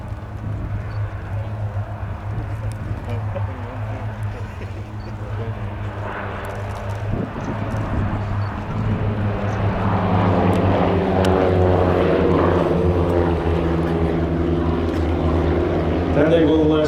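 Royal Norwegian Air Force display aircraft fly in formation at an air show, their engine roar building steadily from a moderate rumble to a loud, sustained drone, with a voice faintly underneath.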